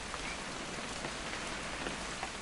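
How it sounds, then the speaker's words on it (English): Steady rain falling in What Remains of Edith Finch, a dense even hiss of drops on surfaces with no voices, holding constant throughout. "It's gonna rain the whole weekend, isn't it?"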